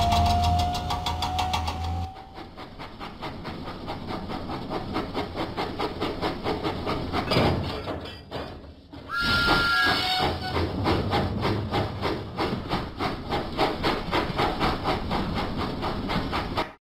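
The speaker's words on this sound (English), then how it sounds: "Huffing and puffing, Thomas set out for Knapford Station." Thomas the steam engine puffs along the track in a video game, a steady rhythmic chuffing that runs throughout and stops briefly before resuming, with a short whistle-like tone in the middle.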